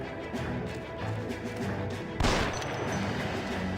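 Gunfire in the L.A. Noire video game: a sharp burst about two seconds in over a steady bed of game music and ambience, staying fairly quiet overall.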